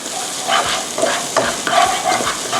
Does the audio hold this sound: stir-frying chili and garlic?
yes